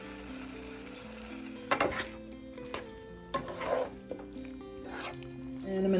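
Salsa sizzles and crackles in a hot pan, steady frying with a few louder bursts of spatter and stirring clatter; a brief word is spoken.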